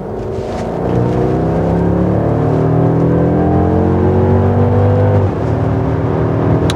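A Mercedes-Benz S580 surges under hard acceleration, its engine note climbing steadily in a loud, smooth rising drone from inside the cabin, briefly dipping as it shifts near the end before pulling again.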